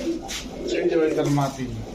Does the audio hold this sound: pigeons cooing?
yes